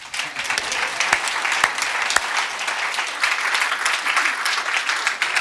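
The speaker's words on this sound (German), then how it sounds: "Vielleicht können wir Ihnen einen Applaus geben," A church audience applauds at a Christmas-carol service, with many hands clapping in a lively, slightly uneven patter and a few sharp individual claps standing out, moderately loud and without speech over it.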